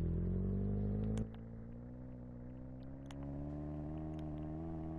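A fast car's engine in the Roblox video game hums steadily at low pitch, with a drop in level partway through before settling into an even, faint drone.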